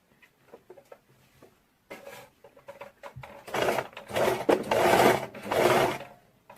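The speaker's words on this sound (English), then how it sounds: "You're going to back stitch from here, just like so." A sewing machine back stitching through fabric, starting with scattered soft clicks and handling noises, then building into louder bursts of rapid mechanical stitching up close.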